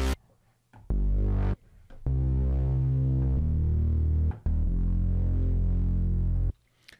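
A deep saw-wave bass patch from the Dune 3 synthesizer plays a few long, buzzing low notes alone, with short silent gaps between the sustained tones.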